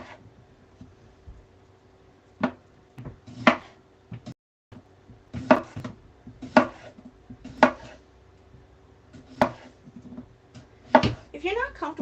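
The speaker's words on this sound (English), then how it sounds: "I have 3 potatoes that I'm going to chunk" A knife cuts three scrubbed potatoes into chunks on a cutting board, giving irregular sharp thuds spaced a second or so apart, close and distinct, with a quick burst of cuts near the end.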